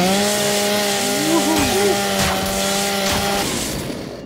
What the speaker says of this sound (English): Chainsaw, okay. Chainsaw.